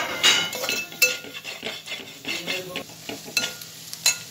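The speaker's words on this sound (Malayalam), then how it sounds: "ഇനി നന്നായിട്ട് നമുക്കൊന്ന് വഴറ്റിയെടുക്കാം" Coriander and turmeric powder being sautéed in a pan, with a soft sizzle under intermittent scraping and clinks of a spoon against the pan.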